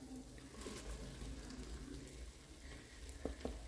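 A large diced onion sizzles and fries in an electric pressure cooker, a steady close crackle with a few faint clinks of stirring near the end, no voices.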